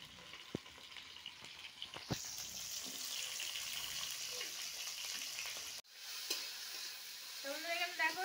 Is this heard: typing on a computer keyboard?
no